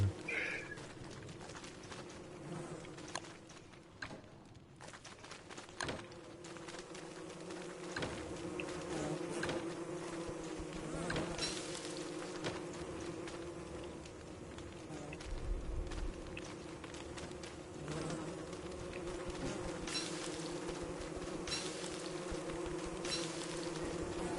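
Bees buzz in the survival game Don't Starve Together, a steady insect drone running throughout alongside game effects and light background sounds.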